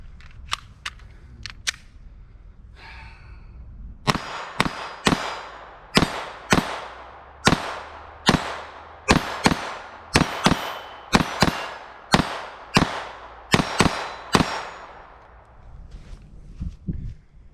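A Glock 44 firing 22LR CCI Mini-Mag 36 grain rounds: a few sharp shots, a pause, then a long rhythmic string of sharp, close reports at a steady pace, each with a brief ringing tail.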